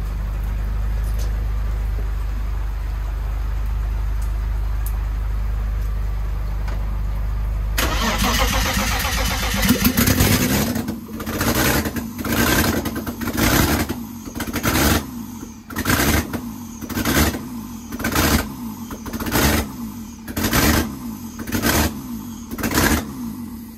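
A BMW E30 fitted with a 3.0-litre M54B30 engine, without an exhaust manifold, cranks over and fires into a rough, loud idle with a pulsing, uneven rhythm after a low steady hum from a fuel pump.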